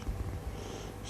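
Gentle, continuous purring from a little kitten falling asleep, heard up close and low in volume, with no voices present.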